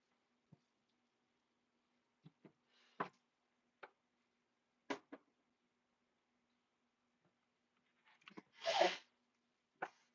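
A single sharp sneeze bursts out near the end, preceded by scattered faint clicks and small noises in an otherwise quiet room.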